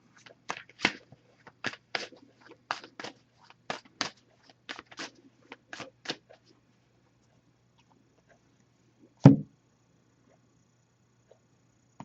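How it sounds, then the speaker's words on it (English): A dozen or so quick, crisp riffling bursts of oracle cards being shuffled at a steady pace, followed after a pause by a single sharper knock. "So I'll give this a few shuffles."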